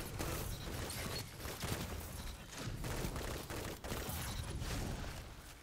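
Claws of the Wolf pulse rifle fires in bursts during a game fight, dense rapid shots in quick clusters with loud impact crackle throughout, brief gaps between volleys.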